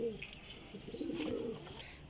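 Teddy golden flying pigeons give soft, rolling coos close by, a continuous low warble that swells slightly midway, fairly faint and without clear talk.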